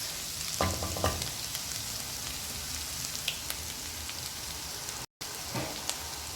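Beef samosas frying in hot oil, a steady dense sizzle with crackling bursts and a couple of brief stirring clatters, close and continuous with no talk.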